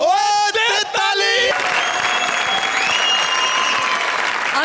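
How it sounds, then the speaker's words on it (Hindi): Loud audience applause and clapping fills the room after a brief shouted voice at the start, with a crowd cheering along. "ओ दे ताली!"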